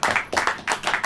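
Congregation clapping at a church service, several bursts of hand claps rising and falling in short waves, fairly close and moderately loud, with no talk over it.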